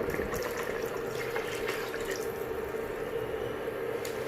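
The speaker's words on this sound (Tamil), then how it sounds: "இப்போ மீதி உள்ள அளவுக்கு நான் தண்ணி சேர்த்துக்கிறேன்." Water pours steadily into a pot of country chicken (nattu kozhi) biryani, a continuous liquid splash and trickle running without a break, close and moderately loud.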